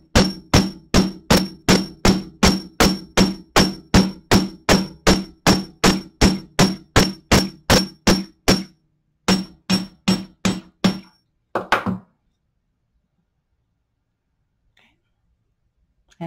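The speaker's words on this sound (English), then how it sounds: "And again, hammering is optional" A hammer strikes jewellery wire to harden and flare it for a moon pendant: a long run of evenly spaced, sharp metallic taps, then a short pause, a few more taps, and quiet.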